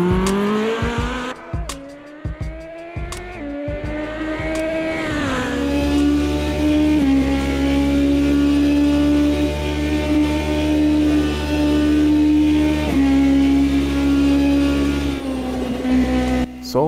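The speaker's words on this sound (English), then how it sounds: "me hot lapping the Porsche 919 Hybrid Evo at one of the last graphically improved tracks, Ibarra" A Porsche 919 Hybrid Evo prototype race car hot-lapping the Ibarra circuit in the Automobilista 2 sim, its engine droning loud and steady with rising revs, gear shifts and sustained high-speed whine throughout.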